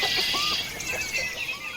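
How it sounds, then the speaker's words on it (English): Organic pasture-raised hens cluck softly in a pasture, a few short calls over steady outdoor ambience with no talking. "tag along with one of their organic, pasture-raised hens as she heads out for her day in the pasture"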